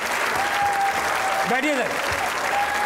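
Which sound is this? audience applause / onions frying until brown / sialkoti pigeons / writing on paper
audience applause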